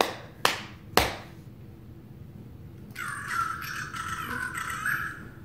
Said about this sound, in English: if you clap, it sings a song to you.